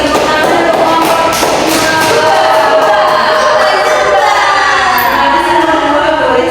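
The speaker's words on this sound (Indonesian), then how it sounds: "Tepuk tangan untuk kelompok" Classroom applause for a group of students during an elementary school lesson: dense, steady clapping from many hands fills the whole stretch at close range, with some crowd noise mixed in.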